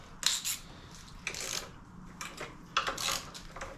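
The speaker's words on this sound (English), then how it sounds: "we're going to use the 12mm to undo the caliper bolts." Metallic clicks and ratcheting from a 12mm tool undoing the brake caliper bolts on a Suzuki GSX125S motorcycle, heard in short separate bursts at close range with quiet gaps between.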